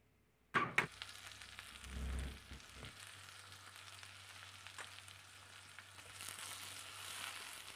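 Okra frying in oil with turmeric sizzles steadily in a pan, a soft crackle that flares after the vegetables drop in and then settles into a continuous faint hiss, with no voices.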